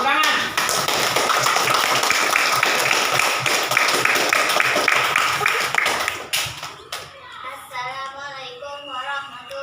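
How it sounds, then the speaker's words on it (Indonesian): Students in a classroom clap together, a dense burst of hand claps for about six seconds that then fades. A voice begins speaking as the clapping dies away. "Ayo kasih tepuk tangan."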